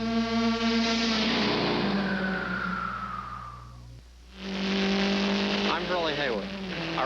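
A race car engine revs loudly, its pitch climbing through a long pull before cutting off sharply, then roaring back with further revving and a quick burst of rising notes.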